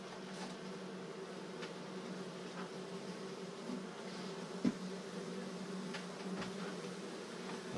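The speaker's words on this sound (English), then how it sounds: "There's a bee crawling up my leg" Honeybees buzzing steadily inside an indoor beehive, a dense, continuous drone close by with small knocks and bumps from the hive now and then.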